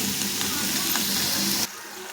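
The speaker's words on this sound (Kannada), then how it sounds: "ಟೊಮೆಟೊ, ಇವನ್ನೆಲ್ಲನೂ ಹುರಿದು ನಮ್ಮ ಕೆಂಪು ಚಟ್ನಿಗಿದು." Tomatoes frying in a pan for red chutney give a loud, steady sizzle with faint stirring scrapes, cutting off abruptly near the end.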